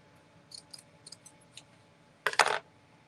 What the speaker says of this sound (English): I'm going to take a piece of burlap and I'm going to cut a square